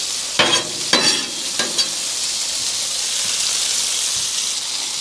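Beef and onions sizzle loudly on a hot griddle for smash burgers, with a bright, steady hiss up close and a few early scraping spatula strokes, with no talking.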